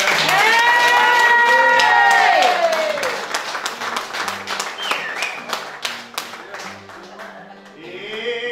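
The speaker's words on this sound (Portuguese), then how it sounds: "uma grande salva de palmas para a glória da nossa ilha" Crowd applause and cheering for São Jorge island at a cantoria song event, loud at first and fading into scattered clapping, with singing voices over the opening seconds.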